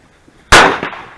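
A single loud firecracker blast from a homemade fireworks display, a sharp close bang followed by a ringing decay and a smaller secondary pop.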